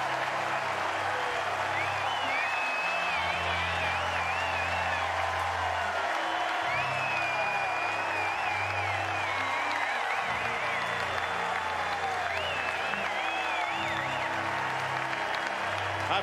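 Baseball crowd at a Texas college game applauding and cheering a home run to right field, a steady wash of clapping with scattered whoops and a low tonal hum underneath throughout.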